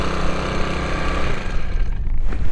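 A cheap $300 outboard boat motor runs steadily and loudly throughout, a dense mechanical drone with a rough edge and no talking over it.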